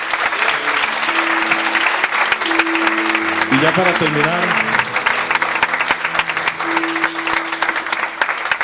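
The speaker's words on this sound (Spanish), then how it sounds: "¿Cuánto le dan un aplauso al Señor?" A church congregation applauds throughout, a dense, steady wash of clapping at moderate distance while someone speaks over it in Spanish.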